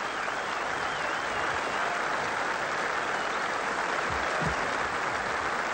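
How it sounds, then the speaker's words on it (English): Steady, dense applause from a large golf gallery at the finish of the 1977 Open Championship, sustained and fairly loud across the whole stretch with a few low thumps near the end. "the crowd's now all buzzing with excitement"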